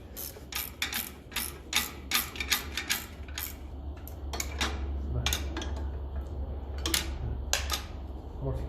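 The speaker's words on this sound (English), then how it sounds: "you can't get at him with a socket, so ratchet spanner" A ratchet spanner clicks in bursts on a nut of a 1957 Ferguson 35 TVO tractor, rapid rattling strokes close to the mic, spaced by pauses, over a low steady hum.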